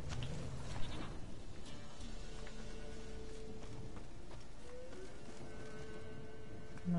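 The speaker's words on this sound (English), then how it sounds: "Come on, princess, bleat again." A goat bleats in The Witcher 3: Wild Hunt, heard as a brief call near the start over a steady game ambience of rustling and low background tones, with a faint second cry toward the end.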